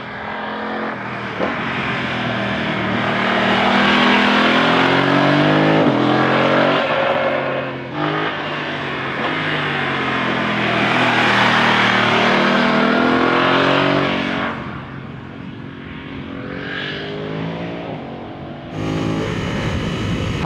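A 2025 BMW F900 motorcycle engine sweeps past in a loud flyby, the roar building, peaking and fading with gear-linked pitch shifts, followed by a second, fainter pass near the end.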